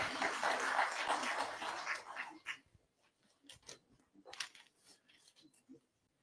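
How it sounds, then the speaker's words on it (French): Audience applause at an official signing ceremony, a dense burst of clapping that fades after two seconds into scattered claps and a few voices. "Sous vos applaudissements,"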